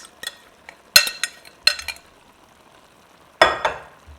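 Seasoned shrimp drop into a hot pan and are stirred on high heat, giving several sharp bursts of sizzling with utensil clinks between quieter gaps.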